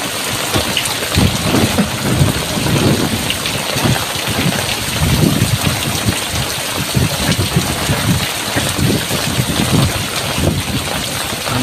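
Heavy rain pours steadily in open countryside near rice fields, a loud, dense wash close by, with low rumbles of thunder rolling underneath and wind buffeting the microphone.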